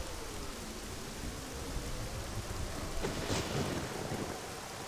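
A rainstorm with thunder, summoned by an ocarina song at a waterhole in The Legend of Zelda: Ocarina of Time 3D: constant heavy rain hiss with a deep thunder rumble swelling midway, no voices.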